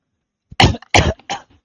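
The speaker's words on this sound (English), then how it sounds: "I just coughed. I hope that wasn't like too into my mic." Two or three loud coughs straight into a microphone, harsh and very close, with a quieter trailing hack after silence.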